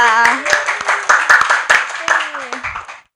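Hands clap in applause at a school event for the principal of SMPN 2 Kerambitan, the sharp claps scattered through the clip under a voice talking over them, ending abruptly.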